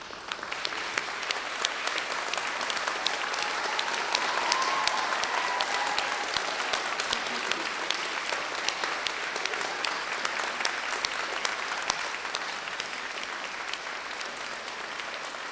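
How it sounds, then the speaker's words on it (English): A standing audience of graduates gives sustained, dense applause to their supporters at a university winter graduation ceremony, the clapping loud and even across the whole stretch. "give them an enormous round of applause"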